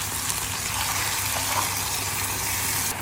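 Garlic, chili, brown sugar and soy sauce sizzle loudly in a pan on a camp stove, a dense steady hiss and crackle up close with no talk.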